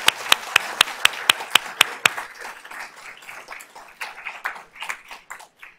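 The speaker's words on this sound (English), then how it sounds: "Let's give Ms. Corley a round of applause." Applause at a school board of trustees meeting honoring achievements, starting with several loud, evenly spaced close claps in a steady rhythm, then thinning into looser, softer scattered clapping from the audience.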